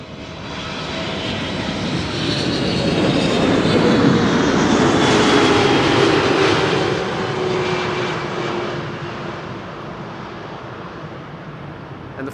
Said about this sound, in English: Cargolux is going to be landing right after the Thai A350